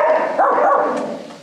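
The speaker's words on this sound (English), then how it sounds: "Are you barking?" A female adoptable dog at a shelter gives a short bark-like vocalization, close and moderately loud, followed by a softer whimpering trail that fades over a second and a half.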